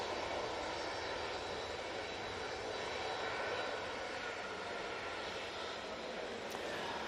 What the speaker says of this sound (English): And that's Jet 2 737-800 is off to Bergen.